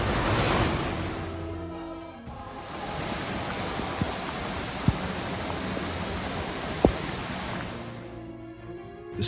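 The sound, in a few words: ocean waves hitting Capitola coastal buildings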